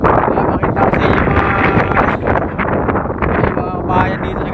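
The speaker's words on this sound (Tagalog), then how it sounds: "medyo mahangin" Wind buffeting the microphone outdoors in Poblacion, Banga, Aklan, a loud continuous rumbling gust noise throughout, with a person talking over it.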